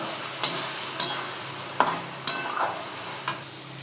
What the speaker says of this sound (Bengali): এবার গোবিন্দভোগ চাল ধুয়ে রেখেছি, এবার ওটা দেবো। ওটা দিয়েও একটু কষিয়ে নেব।